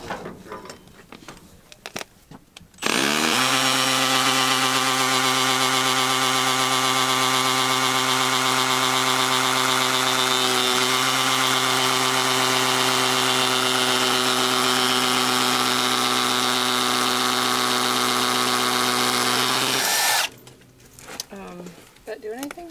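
A drill with a masonry bit grinds into concrete with rebar in a steady, loud, unbroken whine lasting about seventeen seconds, stopping abruptly at the end, with brief talk and handling noise before and after.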